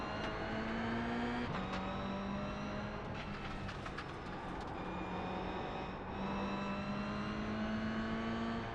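A GR86 race car in iRacing at Okayama screams past with a high, steady engine note that shifts pitch through gear changes and passing, loud and continuous with no talking.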